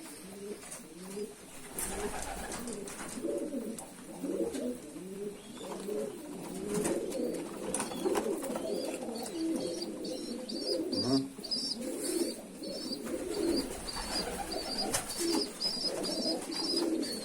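Kanat posta pigeons coo in a loft, a steady run of soft, throaty rolling calls from several nearby birds with faint chirps above, continuing without talk.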